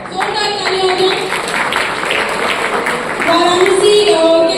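Audience applause breaks out at a launch event for the Bajaj GoGo electric auto-rickshaw: steady clapping from a gathered crowd, fairly close and loud, with a voice on a PA talking over it.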